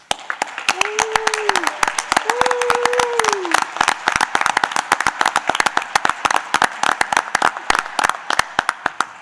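A school district event audience gives a round of applause, loud and close with individual sharp claps thinning into a sparse, rhythmic patter, while a couple of brief voiced whoops rise early on.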